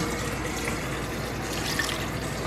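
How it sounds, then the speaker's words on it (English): Water poured steadily into an Instant Pot holding frozen chicken, a continuous close, even splashing fill with no talk. "So I'm going to add half a cup of water."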